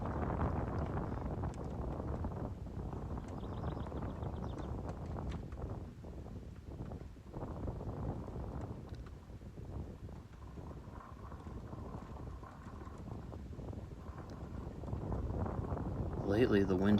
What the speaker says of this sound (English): Lately, the wind has been picking up, along with the heat.